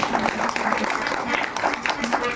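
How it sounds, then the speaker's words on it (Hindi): An audience at a society meeting applauds steadily, dense overlapping claps filling a room, with voices mixed in underneath. "सभी जनों से निवेदन है कि एक बार जोरदार ताली बजाएं आप"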